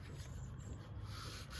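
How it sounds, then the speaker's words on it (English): Car paint is wet sanded with 800 grit sandpaper in steady, continuous rubbing strokes, close and even, with no other sounds. "Wet sanding with 800 grit."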